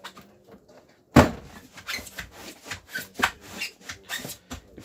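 The door of a 2018 Lunar Clubman SE caravan, a sharp close thud followed by rattling and knocking as someone steps inside, with no talking.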